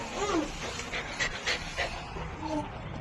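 A dog pants in quick, breathy bursts at close range, with a few faint whimpers and household voices murmuring in the background during a family outing.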